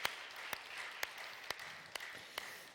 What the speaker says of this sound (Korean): 우리 박수하고 하나님께 영광 올려드리겠습니다